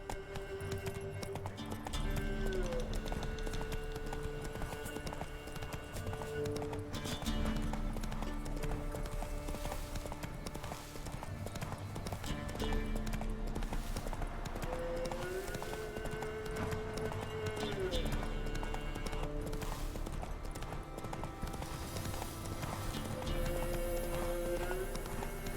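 Roach, a horse in The Witcher 3, gallops in a steady rapid clip-clop of hooves under an ongoing music score, with the hoofbeats close and continuous for the whole stretch.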